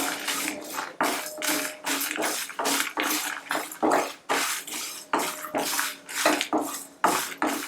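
Whole spices, including star anise and a cinnamon stick, dry roasting in a pan for an aloo masala curry, with a steady run of rhythmic scraping and clattering strokes as they are stirred, close and fairly loud, with no voices.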